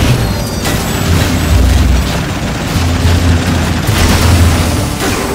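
Continuous game combat in Fuse with dense gunfire, booming blasts and mechanical clatter layered over a low rumbling bed, loud and sustained throughout without speech.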